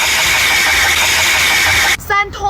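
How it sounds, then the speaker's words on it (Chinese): A car engine with a faulty oil pump runs at a steady loud idle for about two seconds, whining and humming, then gives way to a brief voice. "机油泵异响"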